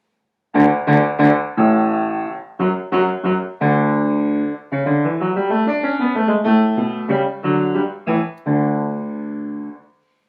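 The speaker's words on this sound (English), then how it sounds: "I'm going to play an example of a lower pitch sound on my piano" Deep, low piano notes ring out in a rhythmic phrase, full and resonant, with sustained chords near the end.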